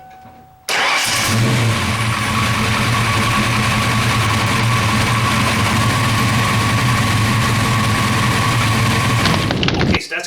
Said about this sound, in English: I'm going to start the vehicle and make sure it's charging.